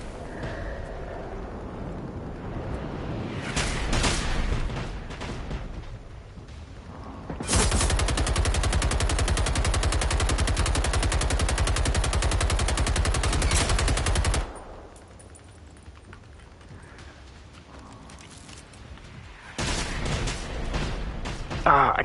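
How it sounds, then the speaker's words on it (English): Loud gunfire in the apocalypse-robot shooter Generation Zero: scattered bursts, then a long sustained roaring stream of rapid automatic fire lasting several seconds, followed by quieter stretches and more shots near the end, with occasional voices talking over it. "I knew you were gonna start firing"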